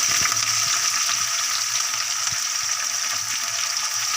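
Green chillies, onion, curry leaves and tomato fry together in a hot pan, a dense, continuous sizzle up close with faint knocks and scrapes of stirring beneath it.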